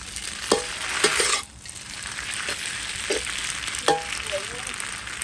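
Food sizzles steadily in a hot pan while a utensil stirs and scrapes it, with a few sharper clatters of metal against the pan, while marinated pork is stir-fried for rad na.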